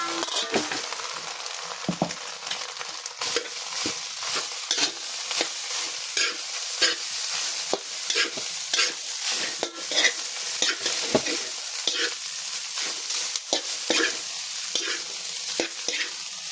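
Java rice stir-fried in a pan, with a steady sizzle under constant scraping and clinking strokes of a spatula across the pan, close and busy throughout with no talk.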